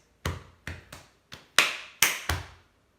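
Body percussion in a primary school lesson, a series of sharp hand taps on the body ending with a tap on the chest; seven crisp, close slaps in an uneven rhythm with no talking.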